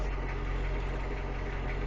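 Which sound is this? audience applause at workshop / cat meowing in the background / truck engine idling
truck engine idling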